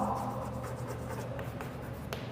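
Chalk or marker scratching across a board as a graph of secant x is drawn during a trigonometry lecture: soft, brief strokes and taps near the mic over a hum, with no talking.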